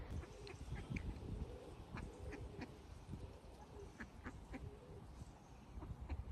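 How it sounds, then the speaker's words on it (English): Six ducks visiting a garden quack repeatedly in short, scattered calls over a steady rustling background, fairly near and moderately loud, with no talk. "Also, the ducks are back."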